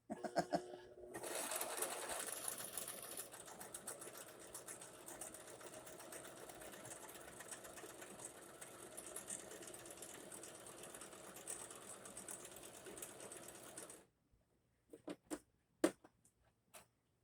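A home sewing machine stitches continuously at a steady, close, fairly loud whir for most of the clip, then stops, leaving a few short clicks and taps near the end.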